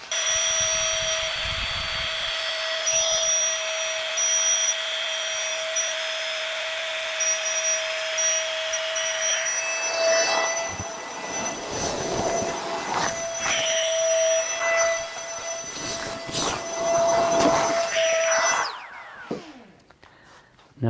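A Flextail Tiny Pump X electric air pump deflating, a steady high-pitched motor whine and rushing air that runs loud and constant, then turns rougher with fluttering and sucking noises before cutting off near the end.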